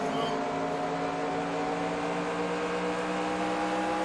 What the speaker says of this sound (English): Either you can hear how he feathers that gas down,